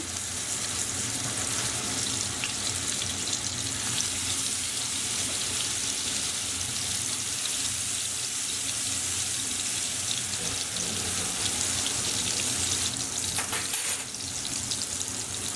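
Danish frikadeller meat patties frying in hot oil in a pan on medium heat, a steady, dense sizzle and crackle that runs continuously and close without any voice over it.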